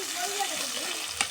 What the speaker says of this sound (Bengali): আমরা সুন্দর করে আগে পেঁয়াজটা মরিচটা ভাজে নেব